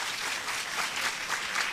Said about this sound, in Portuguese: vamos dar uma salva de palmas de bom dia para vocês